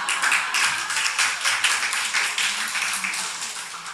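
A church congregation applauds to welcome a speaker forward, a close, lively patter of many hands clapping steadily, fading slightly toward the end.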